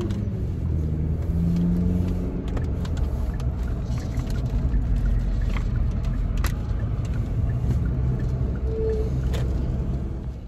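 A car being driven, heard from inside as a steady loud engine drone and road rumble over the whole stretch. There are faint squeaks and rattles throughout, and no talking.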